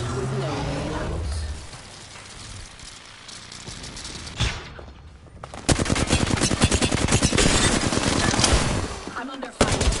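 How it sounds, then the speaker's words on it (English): Automatic gunfire in the battle-royale shooter Apex Legends, with rapid bursts that start loud, thin out in the middle, then return as a dense sustained rattle, mixed with a player's voice talking over the action. "I'm under fire."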